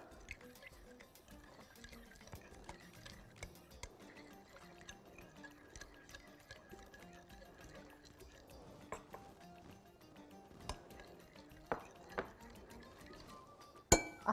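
A spoon stirring potato salad dressed with yogurt, lemon juice and olive oil in a bowl, giving soft, irregular clinks and scrapes at low volume, with a few sharper knocks toward the end.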